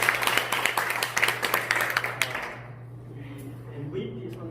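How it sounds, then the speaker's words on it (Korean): A small audience of about twenty at a church mission society's monthly meeting in a college room breaks into brisk, close applause that stops after a couple of seconds, leaving a quiet room with a low steady hum. "마음에 드시면 박수 한번"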